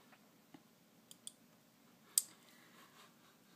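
A computer mouse gives a few sparse, faint clicks over quiet room tone: a soft tap, a close pair of light clicks, then one sharper, louder click near the end.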